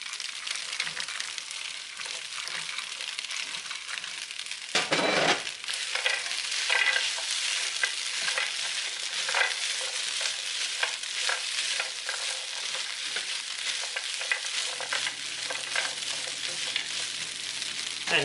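Cashews stirred in a hot pan give a steady close sizzle of frying with repeated scraping and clattering strokes, one sharp knock partway through, and no talking.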